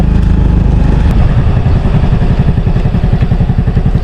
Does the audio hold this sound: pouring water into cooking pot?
no